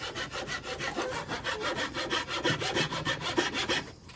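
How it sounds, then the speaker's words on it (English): A hand saw cuts wood for a cigar box guitar, its fast back-and-forth strokes rasping in a tight, even rhythm, close and loud, with no voices. "I always put the tip of my saw on the marking."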